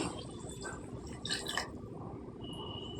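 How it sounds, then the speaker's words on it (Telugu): Water poured into a pan of cauliflower curry, a faint trickling and splashing with a few brief clinks, heard quietly and without talk. "నేను నీళ్ళు వేసుకుంటున్నానండి"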